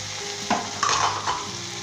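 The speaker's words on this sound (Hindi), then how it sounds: "तकरीबन 3 से 5 मिनट तक इसे हिलाते हुए भुनेंगे" Cabbage and tomatoes stir-fried in a pan sizzle steadily up close while a spatula scrapes and rattles against the metal in a few quick strokes, with no talking.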